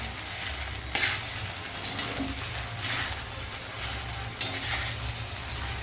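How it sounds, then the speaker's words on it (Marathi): Sabudana khichdi stirred in a pan over heat, a continuous soft sizzle with occasional scrapes and light clinks of the spoon against the pan, close up and without voices. "याला आता मस्त अशी हलवून घ्यायची आपल्याला"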